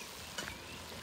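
Meat and green beans fry in a pan, a soft, close crackle and sizzle with a couple of small stirring clinks, quiet and brief, no talk.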